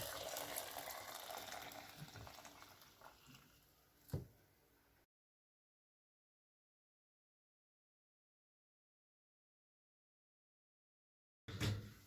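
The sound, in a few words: pouring boiled milk over rice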